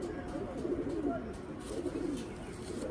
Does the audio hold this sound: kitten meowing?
no